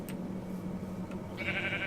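A special pink sheep in a Minecraft (Cubic Chunks) video game gives a couple of short bleats, the last one louder and more sustained, over quiet background ambience.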